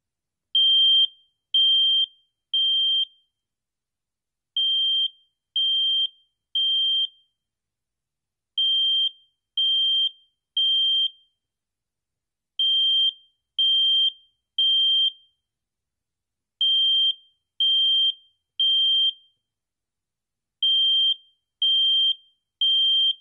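A smoke alarm sounds during a test of alerting devices, giving repeated groups of three sharp, shrill beeps separated by short silences, loud and alone with no talk.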